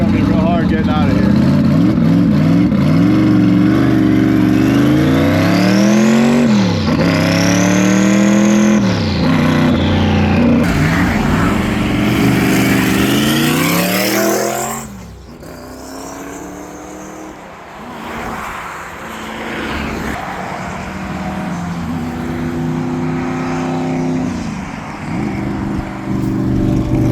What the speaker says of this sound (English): There's a lot of traffic.